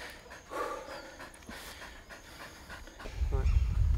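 A police patrol dog panting in quick, steady breaths close by, with a low rumbling noise swelling near the end.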